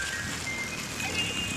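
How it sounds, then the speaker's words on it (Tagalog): Steady rain falls outdoors in the Philippines, a continuous soft hiss with a constant, even level and no voices over it. "medyo maulan pero okay lang"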